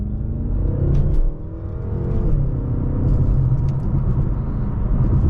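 A BMW M6 pulls off onto a public road, its engine giving a loud, steady low rumble and whir from inside the cabin that dips briefly and then settles into a continuous drone.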